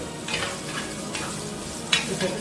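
Onions fry in a pan for a fish curry with a steady sizzle, while a spoon scrapes and stirs in short strokes, ending in one sharper clink near the close. Nobody speaks.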